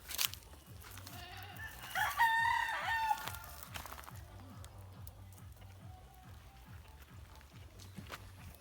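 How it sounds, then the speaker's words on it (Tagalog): Rhode Island Red chickens clucking and a rooster crowing nearby, with a steady low mechanical hum running underneath. "Mga manok ko guys, Rhode Island."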